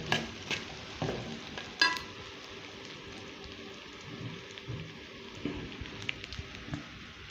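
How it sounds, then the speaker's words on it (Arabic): Kofta meat sautéing and being stirred in a pan with onion, oil and spices: a steady soft sizzle with occasional scraping stir strokes and clinks, close and fairly quiet, no talking. "اديله تشويحه كده"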